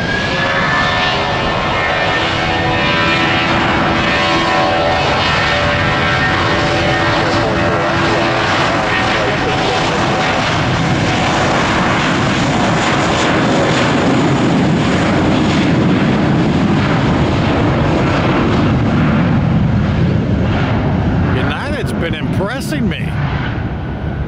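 A loud Airbus airliner roars past close by at Tampa airport, its engine noise swelling and sustained for the full length, with people talking underneath.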